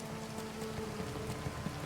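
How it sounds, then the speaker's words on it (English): Steady rain in the horror video game Dreams in the Witch House, a dense, even patter of drops on surfaces holding constant at moderate level with no voices. "So there's awful rain. I'm soaking wet."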